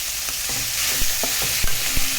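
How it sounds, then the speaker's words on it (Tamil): Onions and tomatoes sautéing in a pan for pepper chicken roast, with a loud, continuous sizzle and several sharp stirring scrapes and knocks of a spatula, no voices. "தக்காளி போட்டு வதக்கி விட்டுக்கோங்க"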